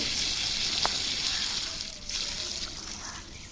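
Water runs and splashes over freshly harvested raw turmeric roots as they are washed, a steady close rush with a faint trickle throughout.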